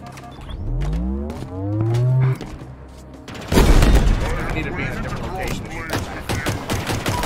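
Enemy gunfire in Halo Infinite's campaign, a dense burst of rapid shots and booms that kicks in loudly partway through after a quieter stretch of in-game tones, continuing as a sustained volley.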